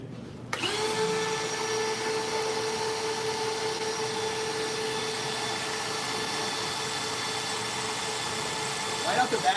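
A power drill bores into 304 12-gauge stainless steel, giving a steady, loud, high whine that starts abruptly and holds evenly for several seconds before a brief burst of clatter at the end.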